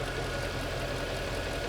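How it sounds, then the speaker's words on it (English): A Mercedes S63 engine idles steadily at close range, a continuous low rumble with a faint knocking texture and no talk over it. "That's the sound of a very happy engine."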